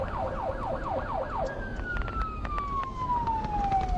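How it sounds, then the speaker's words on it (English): Sheriff's patrol car siren wailing in rapid repeated yelp sweeps, then shifting into a long, steady descending tone, loud and close over road rumble. "With red lights and siren blaring, Murphy prods his patrol vehicle towards the"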